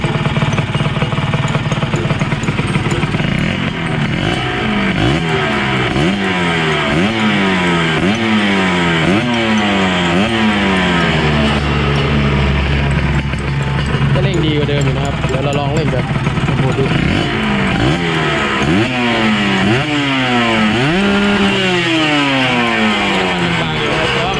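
A Kawasaki 150 motorcycle engine, fitted with a new reed valve, is revved up and down repeatedly in loud, close, rising and falling bursts over a steady idle.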